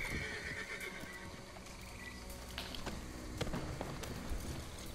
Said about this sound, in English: whose horse is that? Why is it so angry?